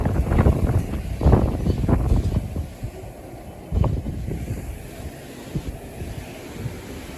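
Strong wind buffets a microphone on a balcony, a continuous rough rumble with loud gusts that swell and fade, stronger at the start and again near the middle.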